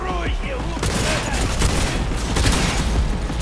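Shotgun fire in the video game Cyberpunk 2077 comes as a rapid burst of loud blasts over dense combat noise, close and continuous across the few seconds.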